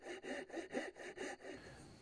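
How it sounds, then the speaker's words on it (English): A Japanese pull saw cuts wood by hand in about seven quick, even rasping strokes, close and fairly quiet, with no other sounds. "Cut along the marked lines with a handsaw. I use a Japanese pull saw."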